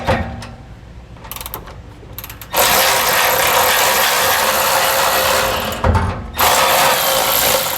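An 8mm socket on a ratchet removes screws from a 2017 Ford F-250, with a few short clicking bursts followed by a long, loud continuous ratcheting whir that pauses briefly before resuming.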